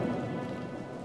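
Steady rain falling in Desperados: Wanted Dead or Alive, a dense, even hiss of drops that stays constant and fairly loud throughout the brief moment.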